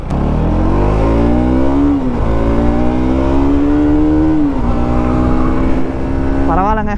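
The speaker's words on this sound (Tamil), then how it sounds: "என்ன தான் எக்ஸாஸ்டாக இருந்தாலும் ஸ்டாக் சவுண்ட் தான்." NS motorcycle with a stock-sounding aftermarket exhaust revving up close, loud and steady, with the engine note rising and falling through several throttle blips and a quick final rev.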